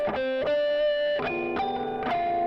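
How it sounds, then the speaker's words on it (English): Heavily distorted electric guitar notes picked in a loose rhythm, played as pinch harmonics, with bright squealing harmonic overtones sustaining between each attack. "It's hard to control that with distortion, but I'm playing a pinch harmonic"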